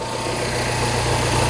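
A Mini Cooper R56 with the N14 engine idles steadily after an oil leak repair, a close, even hum with a faint vibration and no talking.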